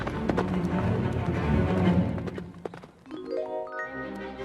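Horse hooves clip-clop as a hunter carries a captive princess away on horseback in a fairy-tale story, a busy run of close hoofbeats that gives way to a calmer musical passage near the end.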